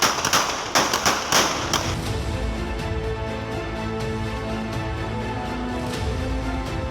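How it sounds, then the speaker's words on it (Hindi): Police gunfire during a search operation in Peon Colony, Hyderabad: a quick cluster of sharp, distant-sounding bangs at the start, then a lower rumbling background that fills the rest. "पुलिस ने ये हमारे पास सीधी फायरिंग की"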